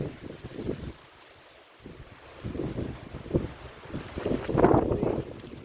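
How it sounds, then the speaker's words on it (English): Wind gusting across an overcast farm, buffeting the microphone in uneven rumbling bursts that rise and fall, strongest near the end. "It's very, very windy."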